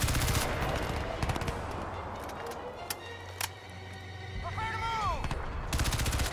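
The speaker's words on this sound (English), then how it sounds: "That guy's like shooting through the wall." Rapid automatic gunfire crackles in the futuristic shooter game Crysis 2, dense bursts at the start and again at the end with scattered single shots between, loud against a background of game noise.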